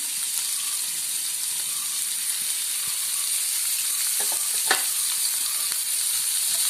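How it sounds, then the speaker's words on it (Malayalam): Onions and green chillies sauté in coconut oil for an ivy gourd egg fry, a loud, steady close sizzle with a few spatula scrapes and taps. "ഒരു ഒന്നര സ്പൂൺ വെളിച്ചെണ്ണ ഒഴിച്ചു കേട്ടോ അതിനകത്തോട്ട് നമുക്ക് ആദ്യം എടുക്കേണ്ടത് സവാള സവാളയും പച്ചമുളകും അത് നല്ലതുപോലെ ഒന്ന് വാടട്ടെ"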